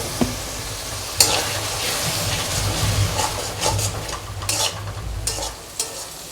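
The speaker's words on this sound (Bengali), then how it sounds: "এবার জল দিয়ে একটু কষাতে থাকবো।" Spice masala sautéing with a splash of water and a few grains of sugar in a pan for a Bengali sardine fish curry, a steady close sizzle broken by repeated scraping stirs of a spatula, with no voices.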